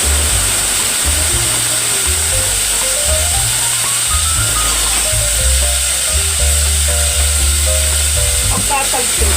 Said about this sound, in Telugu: ఎండుమిర్చి ఇవి వేగిన తర్వాత మనం ముందుగా కట్ చేసుకున్న దోసకాయ ముక్కల్ని, ఒక ఉల్లిపాయ ముక్కని వేసుకుందాం.